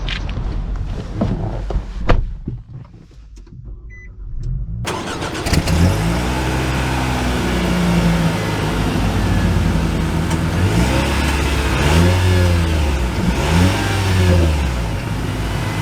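A 2024 Nissan Sentra SR starts and drives off, its engine heard from inside the cabin as a steady hum that rises and falls with repeated acceleration sweeps and gear changes.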